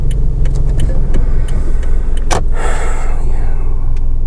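An automatic-transmission car pulls away from a stop, its engine hum steady and loud throughout, with a few light clicks and a brief sharp knock partway through.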